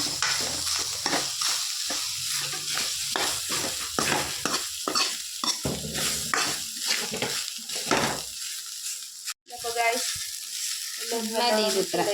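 Tomatoes and onions sauté in a pan for a mudhara molapicha curry, sizzling steadily up close while a utensil stirs them in repeated scraping strokes, with a brief pause before the frying carries on.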